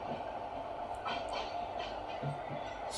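WAP-4 electric locomotive hauling an MS-VM passenger train slowly between Tambaram and Chengalpattu, a steady rumbling roll with faint wheel clatter and a few brief higher screeches, heard close and continuous.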